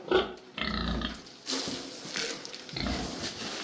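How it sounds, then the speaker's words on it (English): Pigs snort and grunt in a barn, several bursts of rough snuffling at close range with shuffling between them. "Coming in, pigs, coming in. What are you snorting about"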